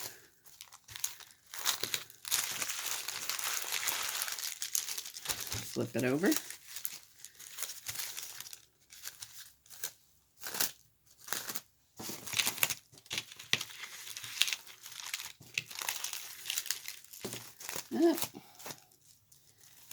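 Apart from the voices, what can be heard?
crinkling parchment paper being handled and flipped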